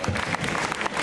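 At a Fantasticon fan convention in Montreal, a crowd briefly applauds a cosplayer, with a short loud burst of close clapping mixed with some crowd noise.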